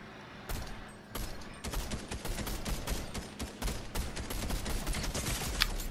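Gunfire in the Fortnite video game, with a sniper shot among it: a dense run of sharp, loud shots cracking one after another for several seconds over a steady rumbling backdrop.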